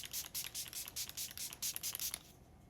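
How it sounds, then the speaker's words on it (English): Benefit setting spray misted onto a face in about a dozen quick, soft pumps, each a short airy hiss close to the mic, fading to quiet at the end. "We're going to spray this face with this Benefit setting spray."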